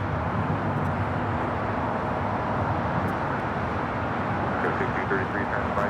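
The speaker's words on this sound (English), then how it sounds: "We'll be taking off to Osaka on the 787-9 Dreamliner." A Japan Airlines Boeing 787-9 Dreamliner takes off at LAX, its jet engines making a steady, loud, broad roar that holds throughout, with no voices over it.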